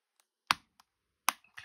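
A MacBook Pro A1706/A1707 spacebar keycap snapping back into place, giving two crisp, close plastic clicks about a second apart in an otherwise quiet room, with a few fainter ticks between them.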